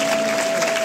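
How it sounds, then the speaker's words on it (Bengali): A stadium crowd at a large public event in Kolkata applauds in a steady wash of distant clapping, brief and even, with no clear voices. "জোরে করতালি দিয়ে আমরা স্বাগত জানাই শ্রদ্ধেয় মুখ্যমন্ত্রী মমতা বন্দ্যোপাধ্যায়"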